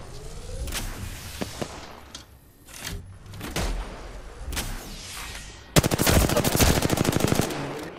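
Video game gunfire striking the player: scattered sharp shots and impacts, then a fast, loud burst of rapid automatic fire near the end, heard alone without talk.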